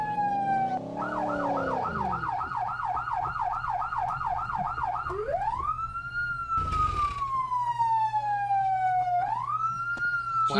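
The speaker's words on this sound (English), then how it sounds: "that siren's loud" A loud police siren in the video game ArmA 2 wails in a fast yelp, then shifts to slower rising and falling sweeps with a brief burst of noise, sounding close and continuous.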